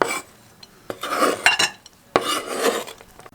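Clattering of utensils against a bowl as chopped onions are scraped in, in two bursts of scraping and knocking with a short pause between.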